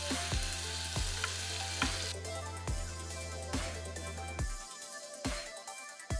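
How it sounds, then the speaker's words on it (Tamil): Tomato and eggplant sizzle steadily in an oil pan with cooked ginger-garlic paste for goat-leg mutton biryani, broken by regular scraping knocks of a spoon stirring every second or so, with no voices. "ஒரே டைமிங்லாம் நம்ம தக்காளி, கத்திரிக்காய் 2த்தையும் ஆட் பண்ணிக்கிறோம்."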